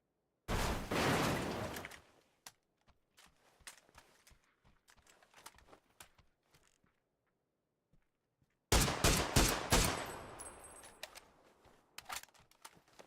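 SLR rifle fire in the video game PUBG: a loud burst of rapid shots, scattered faint clicks and distant pops, then another sharp volley of quick shots.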